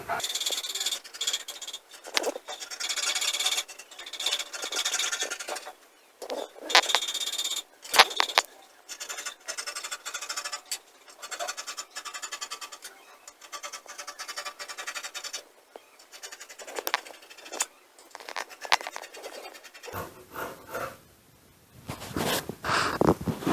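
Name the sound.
cutting out fabric for a cowl kaftan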